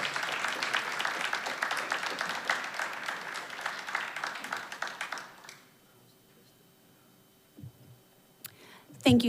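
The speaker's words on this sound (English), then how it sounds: "Let's give a nice round of applause to these outstanding educators" Audience applause for honored educators at a school board meeting, steady clapping for about five seconds that then stops, leaving quiet room tone and a few faint knocks.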